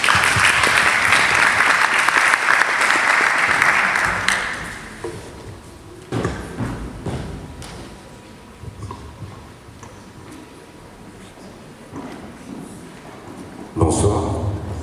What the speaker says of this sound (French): Je vous prie d'applaudir bien fort Monsieur Laurent Guinard.